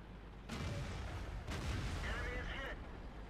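Heavy tank cannon shots boom in World of Tanks from a VK 30 02 D, with two loud blasts about a second apart, a third softer report, and rumbling battle noise between them.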